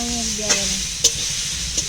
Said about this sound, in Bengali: ভাজা হবে পটল